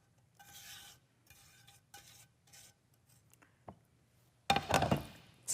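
A spoon stirs flour, chocolate and sugar together in a bowl with soft intermittent scraping strokes, then a louder, denser burst of mixing and clattering near the end.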